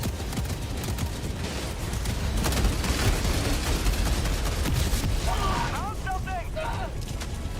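Helldivers battle din with dense, continuous rumbling gunfire and explosions, loud and close throughout, with brief chirping effects near the end and a voice talking over it.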